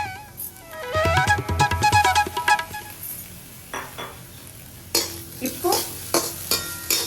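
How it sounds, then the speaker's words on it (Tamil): Carrots, cauliflower and colored bell peppers sauté on a hot tawa with a soft sizzle while a metal spatula stirs them, scraping and clinking against the pan in irregular bursts. A single brief spoken word is heard. "பியூட்டிஃபுல்லாக எல்லா வெஜிடபிள்ஸும் நல்லா வதங்கிட்டு இருக்கு."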